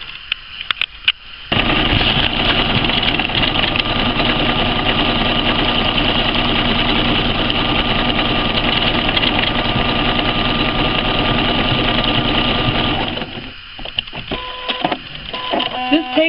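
A sewing machine stitches around fabric hem edges in one long continuous run of steady, whirring mechanical hum, close and loud, starting and stopping with quieter handling sounds on either side.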